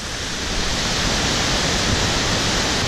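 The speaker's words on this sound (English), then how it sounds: "We found another waterfall. It's right off the side of the road." Panther Creek Falls, a roadside waterfall, roars as a steady, loud broadband wash of falling water, close and unbroken throughout with no voices.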